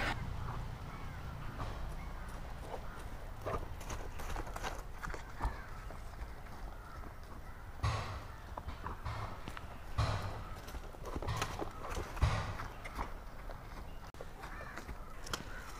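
A horse exercised on a small yard clip-clops in a loose, uneven rhythm at moderate distance, with crows cawing now and then over a rough outdoor background.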